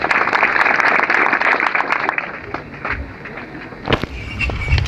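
An audience at a World Rangers Day gathering in Isiolo claps steadily for the rangers, a dense, close burst of applause that holds for several seconds with a brief louder swell near the end.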